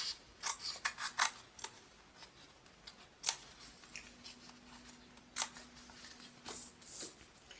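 Scissors snip through fabric while sewing a small tote bag, with a series of short, crisp cuts in irregular bursts, close and fairly quiet.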